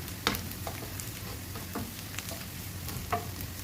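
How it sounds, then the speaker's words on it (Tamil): Onions sautéing in oil with mustard seeds and curry leaves in a pan, a soft continuous sizzle broken by a few sharp spatula clicks, close and quiet with no talking. "கூடவே ஆனியன் சேர்த்து நல்லா வதக்கிக்கலாம்"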